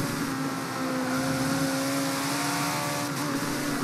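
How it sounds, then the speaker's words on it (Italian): Ferrari 458 engine in the racing video game Forza Motorsport 7 on a circuit, a sustained high-pitched wail holding a near-constant tone at steady speed, loud and continuous with no talk. "Ottimo è il suono del motore di questa 458"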